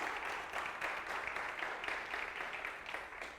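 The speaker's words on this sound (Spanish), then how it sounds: "Denle un aplauso al Señor" A church congregation applauds, rhythmic clapping in unison with a steady pulse, soft and somewhat distant throughout.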